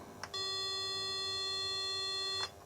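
A homemade ZX Spectrum sound card emits one steady electronic beep tone lasting about two seconds, clean and sustained with bright harmonics, bracketed by faint clicks at its start and end, no speech.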